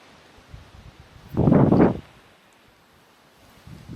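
A short gust of wind sweeps through rustling ornamental garden grasses, swelling and fading within about a second against a quiet outdoor background.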